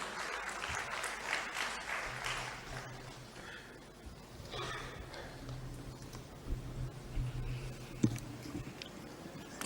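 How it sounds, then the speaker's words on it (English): An audience at a conference and meditation retreat applauds a special guest, fairly faint clapping spread across the room in uneven bursts over a low background hum. "A big round of applause for Sir."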